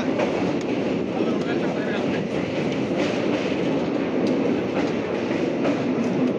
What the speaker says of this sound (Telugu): అదొక ట్రైన్ అన్న